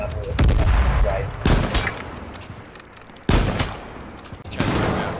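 Bursts of gunfire from the H1Z1 video game: a loud opening shot followed by several more sharp reports spaced over a few seconds, each with a booming decay, close and dominant.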